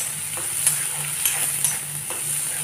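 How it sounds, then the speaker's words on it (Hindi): Two onions sizzle and fry in a pan for a stuffed capsicum dish, with a steady broadband hiss and a few soft stirring scrapes, close and alone. "अब मैं इसमें ये दो प्याज मैंने लिया है, इसको भी डाल देते हैं।"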